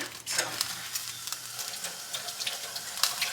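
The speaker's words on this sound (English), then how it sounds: "wash off the spoon for the mac and cheese" Tap water runs steadily in a kitchen sink while a spoon used for mac and cheese is washed under it, giving a close, continuous splashing hiss with small clinks.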